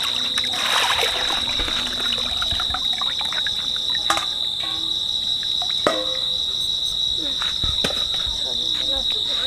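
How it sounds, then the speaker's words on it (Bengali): Scaly silver carp are washed by hand in water, giving intermittent trickling and splashing. Crickets chirp steadily and loudly in the background throughout. "মাছের আঁশ ভর্তি বলে মাছ ধুতে দেরি হচ্ছে বন্ধুরা।"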